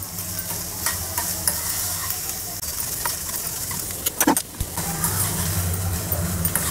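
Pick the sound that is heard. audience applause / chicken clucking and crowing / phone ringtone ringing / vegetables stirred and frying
vegetables stirred and frying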